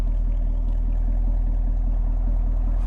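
A 2023 Chevy Camaro 1SS coupe's V8 idling through its performance exhaust, a steady, close, low rumble with even pulsing and no talk.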